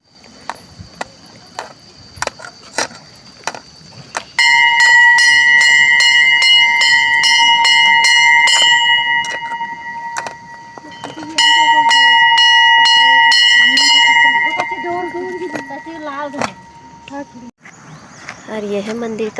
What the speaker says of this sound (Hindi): जो पहले पहुंचे थे सबके सब घंटी बजा रहे हैं।